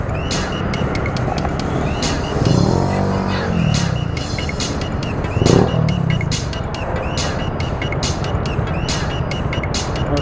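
Busy city street traffic on an avenue during Sinulog festival time: a continuous wash of car and motorcycle engines passing nearby, with occasional louder revs and a swell around the middle, steady and loud throughout without talk.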